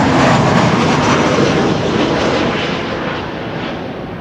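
A jet on the runway at Toronto Pearson Airport gives a loud, broad engine roar, close at first and slowly easing off over a few seconds, with no voices.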